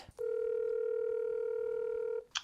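A single steady telephone tone rings out for about two seconds, clean and loud, placed as a call to a friend, with faint clicks at either end.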